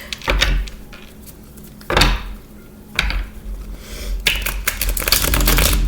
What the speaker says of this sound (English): I shuffled before, but I shuffle some more for you now.